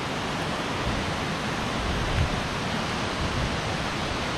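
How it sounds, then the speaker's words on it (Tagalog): Pinsal Falls in Santa Maria, Ilocos Sur, a large waterfall heard as a steady, dense wash of rushing water, constant and unbroken, at moderate level with no voices. "So, ayan yung falls niya."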